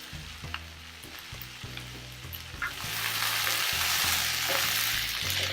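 Okra frying in a pan as red chili powder and coriander powder are stirred in, a steady sizzle that grows denser and louder partway through, with a musical backdrop underneath.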